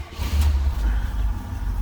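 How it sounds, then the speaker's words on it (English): A 1972 Oldsmobile 98 luxury sedan with its 455 V8 cranks and catches, settling into a loud, steady low rumble close by, with no talking. "Let's go ahead and fire it up. I want to let you hear it run."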